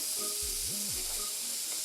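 Bacon sizzling in a pan, a steady bright hiss with faint crackle throughout, close and continuous with no talking.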